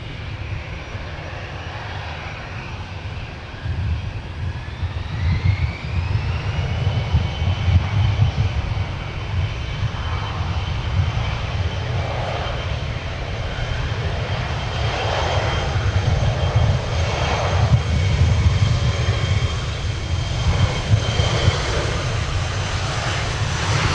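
An airplane departs runway 12 right from the Alpha 9 intersection at Minneapolis–St. Paul airport, its engine roar swelling steadily into a loud, sustained rumble with a rising whine, and no talking.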